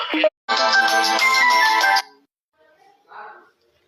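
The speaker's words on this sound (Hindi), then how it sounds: "फोन आ रही थी" Mobile phone ringtone of an incoming call, a bright melodic tune sounding loudly for about two seconds after a brief opening blip, followed by faint scattered noises.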